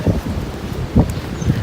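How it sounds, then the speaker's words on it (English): Strong wind gusts buffet the microphone outdoors near a horse paddock, a low rumbling roar with brief louder bursts and no voices. "It is very windy"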